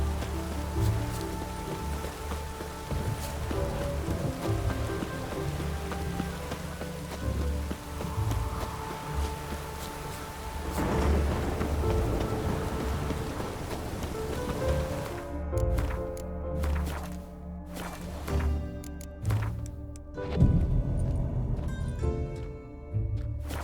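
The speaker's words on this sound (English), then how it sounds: "Rain again." Steady rain falls in The Witcher 3: Wild Hunt, a continuous wash under the game's music and ambience, with dense rainfall noise throughout and sharper patter in the later part.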